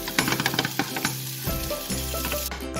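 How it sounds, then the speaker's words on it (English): Red peppers stir-frying in a hot pan for Vietnamese shaking beef, a loud close sizzle punctuated by rapid clinks and scrapes of a utensil tossing the pieces. "is I just stir fry the red peppers cook first."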